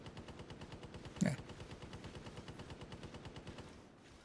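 Rapid, regular automatic gunfire in a video game rattles steadily with one louder burst partway through, then fades slightly at the end, with no talking.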